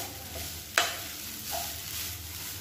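Egg rice turned over in a pan on a medium flame, a soft sizzle with a sharp spoon scrape near the start and light stirring after.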